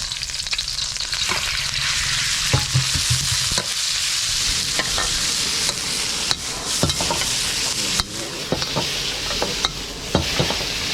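Pork and plenty of garlic frying in a hot pan at a Thai garlic-pepper pork stall, a steady loud sizzle with occasional stirring scrapes and clinks throughout.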